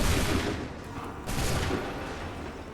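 A musket volley fires on command in Assassin's Creed 3, a loud, dense crackle of many shots at once followed by a second ragged burst, with no talk over it.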